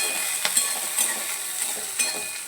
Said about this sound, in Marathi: हिरवे वाटाणे ते छान असे भाजून घ्यायचे आहे सोबत मी कांदा टाकलेला आहे भाजण्यासाठी